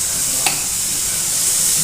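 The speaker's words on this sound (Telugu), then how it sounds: "మళ్ళీ కలుపుకుందాం." Chickpea guda mixture frying in plenty of oil while being stirred, giving a steady close sizzle with one brief scrape of the spoon, and no voices.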